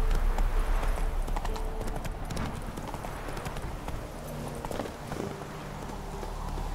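Roach, the horse in The Witcher 3, gallops with rhythmic clip-clop hoofbeats that run on continuously, mixed with faint game ambience and a brief voice.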